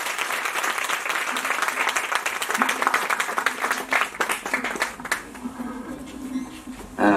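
Sustained audience applause at a Punjabi literary festival welcomes writer Kirpal Kazaak to the stage, dense clapping filling the hall for several seconds and thinning slightly toward the end, with a faint voice or two under it.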